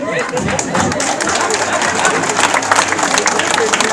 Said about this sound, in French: On peut les applaudir encore une fois bien fort, mesdames et messieurs